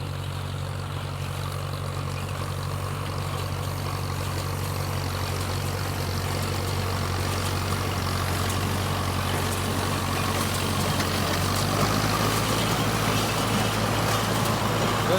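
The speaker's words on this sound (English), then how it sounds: "I'm driving a tractor, running the baler, and stacking hay" A tractor engine drones steadily while baling hay, a constant low rumble with mechanical clatter from the baler that stays loud and unbroken throughout, with no talk.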